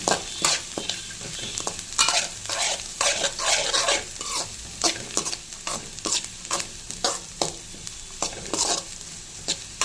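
Food frying and sizzling in a pan under steady, repeated stirring, with a constant hiss broken by frequent scraping strokes of a spoon against the pan, close and fairly loud throughout.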